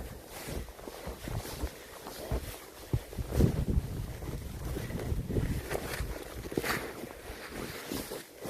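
Wind blows outdoors in a snowy landscape with small pines, a rough, gusting rumble buffeting the microphone alongside a few crunching footsteps.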